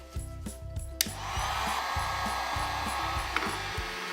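A heat gun blows onto heat shrink tubing over a spliced electric floor heating cable butt connector, melting the solder inside: a steady loud blower rush begins after a few knocks and clicks and continues without talk.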